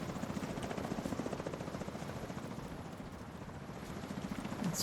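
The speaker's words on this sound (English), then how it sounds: "And one more chopper." Helicopter passing overhead in a video game, a loud continuous rotor chop with fast steady thumping that holds throughout, close and unbroken.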